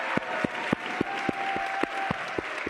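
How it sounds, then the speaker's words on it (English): Applause from an audience at a city mayor's public budget forum, with sharp, evenly spaced claps standing out above a softer bed of clapping. It holds steady throughout. "Give her a big round of applause"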